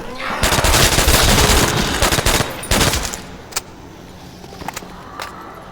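Rapid gunfire in the Call of Duty Zombies mode on the Nacht der Untoten map, loud dense bursts for about three seconds, then sparse single shots and faint clicks with light in-game noise.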